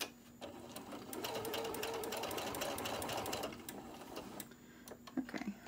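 A sewing machine stitches a straight seam on a fabric koozie, a fast, even mechanical whir for a few seconds before slowing and stopping, close and alone.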